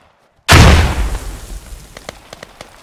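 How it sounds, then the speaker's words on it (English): A grenade blows up in the military shooter game Squad with a sudden, loud, close boom. A long rumbling tail fades over two seconds, and faint scattered pops and debris ticks follow. "Watch out, is that a grenade?"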